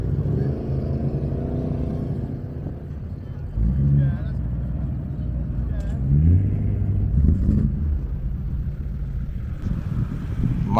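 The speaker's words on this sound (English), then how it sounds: "that Fiat 124 is so tasteful, and that sound" Fiat 124 car on the way to the Goodwood Festival of Speed, its engine rumbling and revving as it drives past amid steady road and wind noise, with people talking over it.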